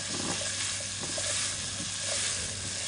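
Onions sauté in a pan for oat chicken soup, giving a steady close sizzle and frying hiss with light stirring scrapes throughout.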